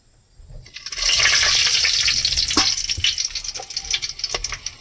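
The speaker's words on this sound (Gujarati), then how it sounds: "આપણે જુઓ તેલ નાખી દીધું છે અને હવે આપણે નાખી દઈએ આવડો આખો મસાલો" Masala spices dropped into hot oil burst into a loud sizzle after a short quiet start, then keep up a bright, crackling fry that slowly settles and flickers toward the end.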